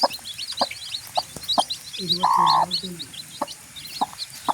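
A hen clucks in low, repeated bursts while chicks peep constantly in high, quick notes close by.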